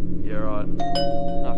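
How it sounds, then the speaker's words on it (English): A doorbell chimes twice, a clear two-tone ding-dong at close range over a low hum, while someone speaks briefly. "That's the doorbell."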